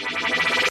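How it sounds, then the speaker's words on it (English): A short riser sound sample in FL Studio gives a bright, noisy whoosh with a pulsing texture that swells briefly and then cuts off abruptly. "This is what the original sample sounds like."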